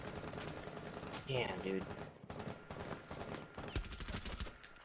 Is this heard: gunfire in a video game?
yes